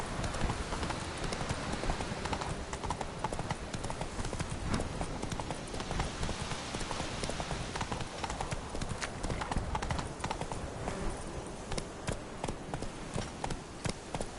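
Horse hooves clip-clop in a steady, continuous trot in The Witcher game. A voice can be heard faintly under the hoofbeats.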